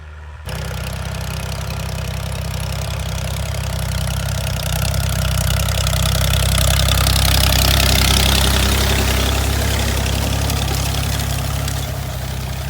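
A Dongfeng 404 tractor diesel engine of about 40 horsepower runs steadily at a farm field, a loud, continuous close-up rumble that swells slightly midway and holds without any talk.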